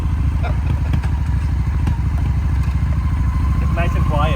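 A 2003 Honda Shadow motorcycle, recently fixed after sitting unused, idles close by with a steady, even low rumble of rapid firing pulses, running smoothly and fairly quietly throughout.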